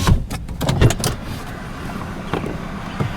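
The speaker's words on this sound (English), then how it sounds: "The windows in the rear do still work." Rear power windows of a 2004 Ford Crown Victoria P71 police car, with a low motor whir and short mechanical thumps and clunks near the start, followed by quieter hum and a brief knock later.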